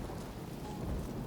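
A rain spell with thunder in Divinity Original Sin 2: Definitive Edition, heard as a brief, dense hiss of falling rain over a low rumbling bed, steady and fairly loud throughout.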